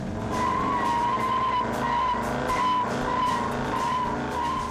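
A 1969 Chrysler Newport convertible arrives outdoors. Its engine note is loud and steady, with a continuous rumble and tonal whine that carry through the whole stretch without a break. No voices are heard.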